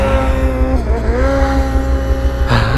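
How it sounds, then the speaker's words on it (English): A turbo snowmobile engine is held wide open in deep snow, a loud, sustained high-revving drone with shifting pitch that dips and climbs again near the end. "I don't think my poor snowmobile can take too much of this. See how far the turbo can make it up there."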